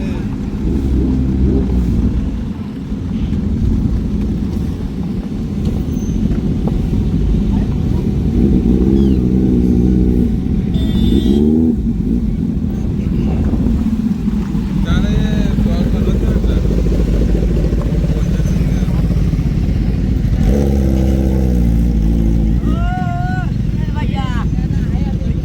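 Steady traffic rumble with engines passing close by, over constant talking and wind noise on the microphone.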